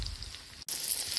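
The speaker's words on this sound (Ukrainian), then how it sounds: "Викладаю відбивні на розігріту сковорідку з рослинною олією." Breaded pork chops hit hot vegetable oil in a frying pan, a sudden bright steady sizzle that starts after a brief gap and continues loudly, close up, without speech.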